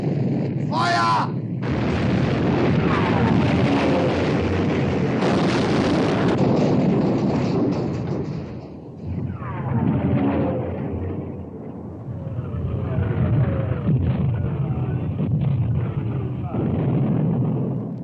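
Royal Navy warship guns firing in a 1960 WW2 naval battle film, heavy booming blasts and rumbling explosions under shouted commands and dramatic score, loud and sustained across the scene.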